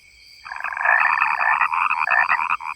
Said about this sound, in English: The quiet conversation of frogs and toads.